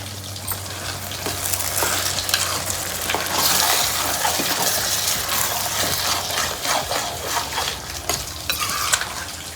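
Tomatoes are stirred into a dry eel fish curry with cucumber pieces, frying in a pan. A loud, continuous sizzle is broken up by frequent scraping and clinking of a spoon against the pan, close up, with no voices.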